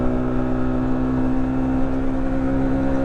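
A Masai Furious 125 Racing 2021 motorcycle engine holding a steady, even drone with a buzzy tonal hum and no clear revs or gear changes, close and continuous throughout.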